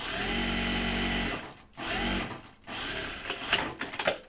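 A domestic sewing machine stitches a seam in steady motor-driven bursts, running for over a second, pausing briefly, then running again, with quieter fabric handling and clicks toward the end.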